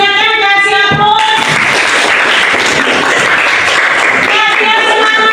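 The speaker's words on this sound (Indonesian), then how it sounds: "silakan kasih aplaus" Applause from a classroom audience of students and teacher, a broad dense clapping wash lasting the whole stretch, loud and close, with a tonal voice or music-like harmonics at the start and end.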